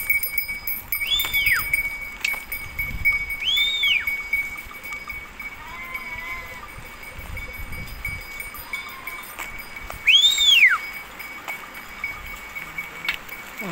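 A flock of sheep with lambs near Esiroğlu bleats in the open air, a few high wavering calls rising above rustling and low background noise, fairly close.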